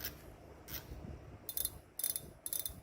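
Faint, quick ratcheting clicks come in a few short bursts as the spring clicker of a Daiwa 18 Exist FC LT2000S-H spinning reel snaps into place, quiet against low background noise.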